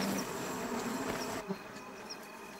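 Steady insect buzzing, like bees swarming nearby, droning continuously with a few faint higher whines drifting through.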